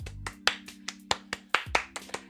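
One person claps in a room, about a dozen sharp, separate claps in an uneven rhythm, close and fairly loud, with a steady low hum underneath.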